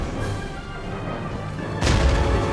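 Cannons fire at enemy militia on an Empire: Total War battlefield: a faint boom at the start, then a loud, deep blast near the end over low battle rumble.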